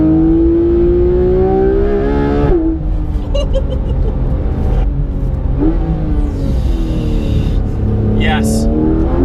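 Porsche 991 GT3 RS engine revving high and holding a strained, rising note, with gear changes and a couple of sharp blips, loud and close from inside the car.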